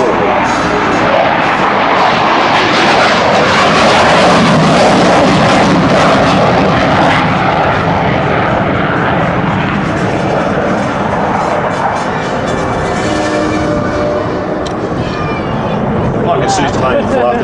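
An Australian F-111 jet makes a flyby at an airshow with full afterburner, a loud, continuous roar that fills the whole stretch, swelling and slowly shifting as the aircraft passes.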